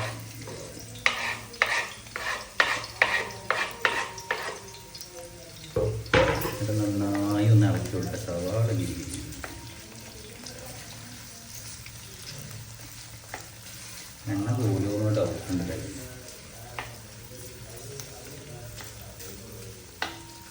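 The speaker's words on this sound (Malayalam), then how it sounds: "ചൂടായ എണ്ണയ്ക്ക് നമ്മൾ ഉള്ളി അരിഞ്ഞിടുന്നു" Chopped onions drop into hot oil for a home cookery show, setting off a steady sizzle that swells twice, with clinking stirring at the start and someone briefly talking in between.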